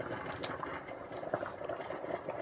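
Cooked fettuccine pasta being drained, a steady watery rush and hiss of pouring liquid running throughout at moderate level, with no talking.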